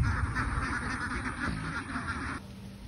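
A flock of ducks quacking steadily and close by, an overlapping chorus of nasal calls that carries on for a couple of seconds and then stops abruptly, with faint background noise behind.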